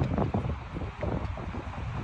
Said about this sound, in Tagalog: Medyo may hangin-hangin na eh